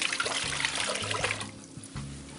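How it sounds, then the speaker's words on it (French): Broth poured from a container into a cooking pot (cocotte) in a home kitchen, a steady close splashing stream of liquid lasting a couple of seconds, with no talking. "Je verse mon bouillon"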